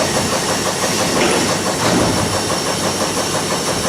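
The steam-assisted reversing gear of a steamship engine is run through, giving a close, steady mechanical hiss and rumble with faint rapid clattering, continuous for a few seconds without talking.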